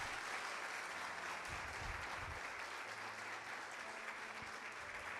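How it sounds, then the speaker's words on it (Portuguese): A church congregation applauding during a Portuguese-language worship service, a steady, even wash of many hands clapping at once for the whole stretch, with no voices standing out. "Você pode aplaudir o Senhor? Mais forte, é para o Senhor."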